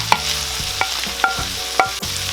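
Beef liver going into a pan for a Filipino offal dish, with a steady frying hiss beneath four sharp utensil scrapes and clinks spaced roughly half a second apart as the pieces are stirred.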